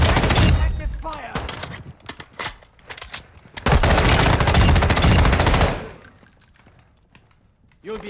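Video game gunfire: long, loud automatic bursts and rapid shots, close and dense for several seconds, then fading to quiet before a final burst, with voices speaking in between.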